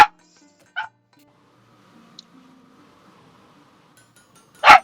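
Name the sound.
dog barking in the video game Blacksmith Master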